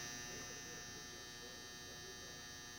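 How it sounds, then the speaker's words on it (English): Clothes dryer buzzer sounding from the next room, a steady, sustained electronic buzz with a hum beneath it, moderately faint and continuous. "sorry, dryer going off"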